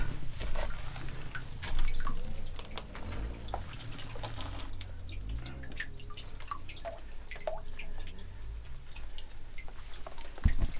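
A mountain spring along a trail drips steadily, soft scattered drops falling into water over a low outdoor background rumble, fairly quiet and without talk.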